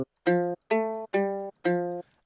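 A dry guitar one-shot sample from a free VST fires four times in a steady beat pattern, each hit a clean harmonic stab with a short decay and silence between.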